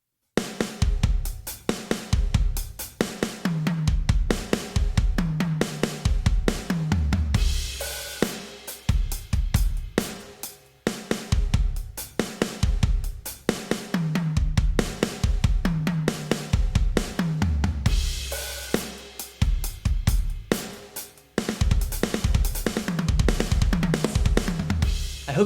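A drum kit plays rapid fills, snare, toms and kick alternating in steady repeating phrases, with cymbal crashes marking each cycle, up close and clear.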